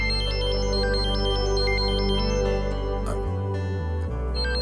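A mobile phone's incoming-call ringtone plays loud and close in a Malayalam TV serial scene: a bright, repeating electronic melody over a deep rhythmic backing, with no talking.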